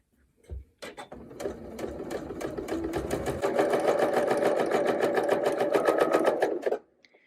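A sewing machine runs steadily as fabric is fed along the presser foot for a half circle quilt block. After a brief start, the fast, even stitching hum holds up close for about six seconds, then stops abruptly.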